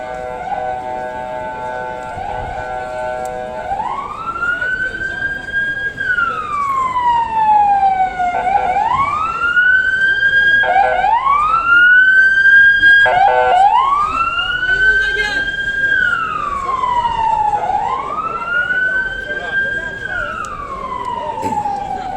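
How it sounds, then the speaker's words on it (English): A wailing ambulance siren rises and falls in repeated sweeping cycles, loud and steady over street noise and traffic near Taksim Square, Istanbul, staying close throughout. "We can hear an ambulance up ahead."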